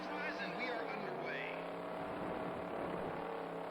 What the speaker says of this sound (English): Just give her the old throttle burp.